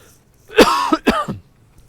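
Two harsh coughs in quick succession, close and loud, with a short pause between them and silence around.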